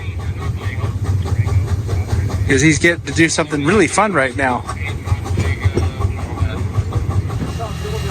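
Steam locomotive number 13 running, a steady low mechanical rumble with rhythmic chuffing, heard close beneath someone talking.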